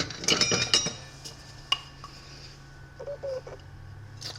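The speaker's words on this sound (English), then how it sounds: "now we're going to whisk all of this together." Sourdough cinnamon roll ingredients whisked together in a bowl, a quick burst of clinking metal taps against the side for about a second, then a few scattered faint clinks and scrapes in a quiet kitchen.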